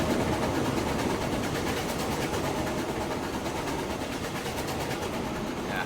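Trains running in the Transport Fever 2 game, a steady, continuous rumble of rolling wagons and heavy engine drone. The sound stays loud and even throughout, with no talk over it.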